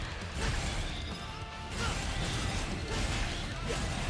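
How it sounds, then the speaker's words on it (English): In the Devil May Cry video game, Nero's Bringer Knuckle punches land as dense crashing, smashing impacts over continuous game effects, loud and busy throughout. "there's a window during every attack where you can press the right trigger to punch"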